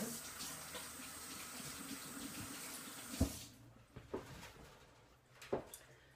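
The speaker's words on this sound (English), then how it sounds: "I'm going to go ahead and rinse my hands again" A kitchen tap runs while hands are rinsed during sushi-roll preparation, a soft, steady splashing hiss for about three seconds. It then cuts off, leaving a few faint knocks and drips.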